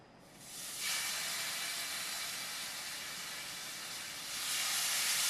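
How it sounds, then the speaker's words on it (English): Fish fillets laid into a hot pan with butter and shallots: a sudden broad frying hiss that swells within the first second and holds steady and close, rising again toward the end, no voices. "So we're going to go ahead and put the fish into the pan."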